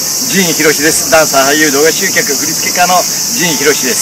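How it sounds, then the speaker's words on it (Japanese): Summer cicadas keep up a steady high buzzing drone throughout while someone talks over them nearby. "セミが鳴いてますけど、"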